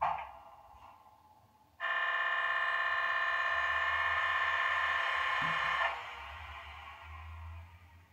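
Air compressor sound effect from a PIKO Vectron EU46 model locomotive: a loud, steady buzzing drone that switches on abruptly, holds for about four seconds, then drops to a quieter rumbling tail over faint background noise.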